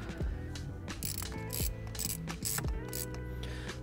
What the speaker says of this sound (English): So I'm gonna tighten down the last bolt